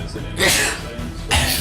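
A person sneezes in a room during a livestream, giving two sharp, breathy bursts about a second apart, loud and close, while people talk nearby.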